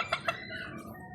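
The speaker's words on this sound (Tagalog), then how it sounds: "Yan ang aking white leghorn, malaki na." A white leghorn hen, about six months old, gives two quick sharp clucks followed by a softer drawn-out call, close by in a backyard with no talk.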